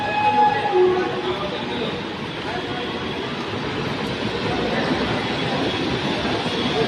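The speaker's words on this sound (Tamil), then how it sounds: "தண்ணீரை வாரி இறைத்தபடி சென்று வந்தே பாரத் ரயில்." A Vande Bharat express train rushes along flooded railway tracks in Mumbai during heavy rain, a loud continuous roar of wheels and spraying water with a brief tonal whine near the start.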